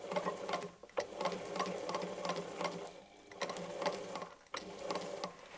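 A sewing machine runs back over a seam in patchwork fabric, stitching in a fast steady rattle, close and continuous, with brief pauses and restarts.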